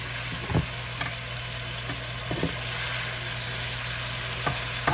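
Asparagus and broccoli sautéing in a pan, a constant close sizzle with a few brief knocks and stirring clatters scattered through it, no talking.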